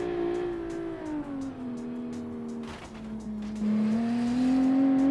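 A tuned stock car engine in the game Automation, a steady droning note that drops as the revs fall, then climbs again under acceleration, close and continuous with no talk.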